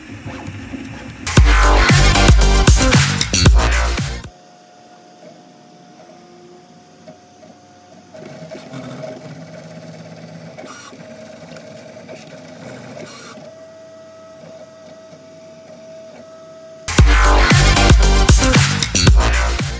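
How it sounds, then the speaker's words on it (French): A filament 3D printer hums with a steady tonal whine and soft stepping ticks, framed by bursts of louder mechanical clatter at the start and end. "c'est une des meilleures imprimantes de filaments qui existent sur le marché"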